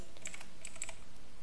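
Rapid, steady keystrokes clatter on a computer keyboard as a web address is entered in Google Sheets, close and continuous with no talking.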